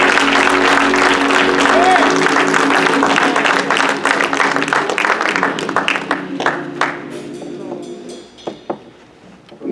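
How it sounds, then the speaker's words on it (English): A church congregation claps hands during a sermon, loud massed clapping with voices that thins out and fades toward the end, leaving a few scattered claps. "Clap your hands for the Lord"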